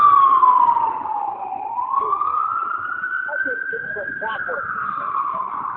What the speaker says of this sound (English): Oh, there's our ambulance.